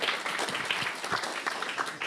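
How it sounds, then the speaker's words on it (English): Brief round of audience applause at a live tech meetup in a hackerspace, a soft, steady wash of clapping from a modest crowd lasting about two seconds with no voices. "A small round of applause, please."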